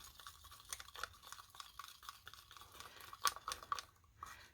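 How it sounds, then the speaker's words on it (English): A stick stirs DIY paint-making powder into paint, giving soft, faint scraping and crunchy mixing strokes in an irregular rhythm, close up, with no talking. "I'm just going to put some in and then mix it on up."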